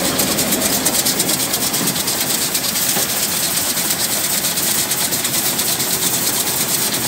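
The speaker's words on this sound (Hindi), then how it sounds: "एक छोटा सा मोटर भी काम कर रहा है जी" A small motor on a grain-cleaning machine for paddy runs at a Punjab grain market, a loud, continuous mechanical drone with a steady rattling texture and no break.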